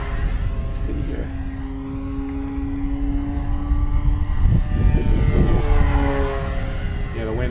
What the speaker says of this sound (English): What a monster airplane.